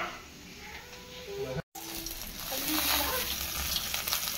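Two teaspoons of ghee sizzle in a hot pan while chicken biryani is being made, a soft continuous crackle that cuts out for an instant, then comes back a little louder and brighter.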